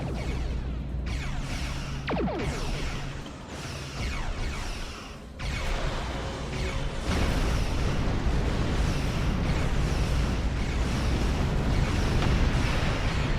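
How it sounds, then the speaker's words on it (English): A photon torpedo fires in the Star Trek Online space game amid a dense, roaring wash of weapon blasts and ship noise against a battle with nimble fighter craft, with a sharp launch near the start. "And off goes the torpedo."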